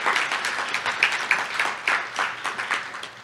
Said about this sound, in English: So if you wouldn't mind giving me a round of applause to our sponsors.